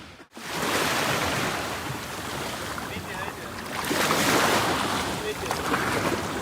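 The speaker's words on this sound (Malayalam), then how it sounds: "ആ വരുന്നതാണ് നമ്മുടെ ബോട്ട്" Sea waves and strong wind roar steadily off Lakshadweep as a glass-bottom boat approaches, a dense wash of surf and buffeting wind noise that swells slightly toward the end.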